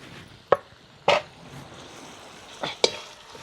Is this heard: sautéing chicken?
yes